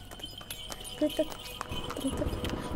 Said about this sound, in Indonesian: tiba-tiba terdengar suara kereta kuda dari kejauhan